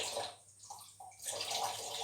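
Water poured into a pot of stewing rhubarb, a small splashing pour that dips briefly before picking up again as a continuous trickle.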